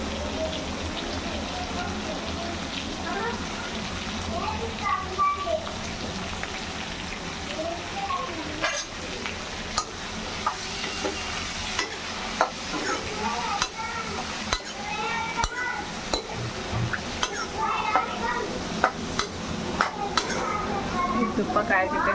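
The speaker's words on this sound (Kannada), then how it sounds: "ತುಪ್ಪ ಕಾಯ್ತಿದ್ದೇನೆ" Ghee heats in a pan on a home stove, giving a steady, close sizzle with intermittent stirring and scraping sounds throughout, and no voices.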